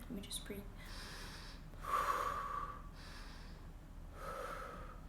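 A nervous person takes deep, shaky breaths, several audible inhales and exhales with gasping, snorting edges, close to the microphone.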